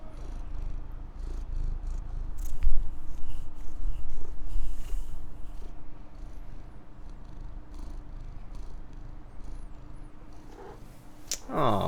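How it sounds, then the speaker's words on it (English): A cat named Kiwi purring steadily and close by, a continuous low rumbling throb with a few small rustles and handling noises mixed in. "He's purring."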